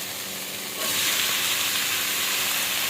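Boiled young jackfruit goes into a hot pan of spiced, sweetened masala, and a loud steady sizzle and hiss jumps up sharply about a second in, then holds close and continuous.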